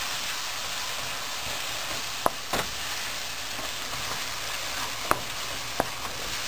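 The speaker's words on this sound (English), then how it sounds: "I will fry this all things together till the oil starts to separate from this all spices" Spice paste fries in oil for a South Indian chicken curry, a steady even sizzle broken by a few sharp clicks or taps as it is stirred, no talking.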